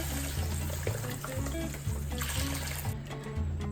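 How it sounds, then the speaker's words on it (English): A litre of chicken stock is poured into a risotto pot on low heat, a steady close liquid stream and trickle over a low hum that thins out near the end. "now we're going to pour in a whole litre of chicken stock"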